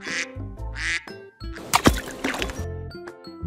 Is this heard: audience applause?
no